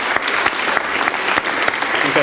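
Concert audience clapping for the camera and sound crew, a loud, close burst of dense applause with a few sharper individual claps standing out, lasting the whole moment.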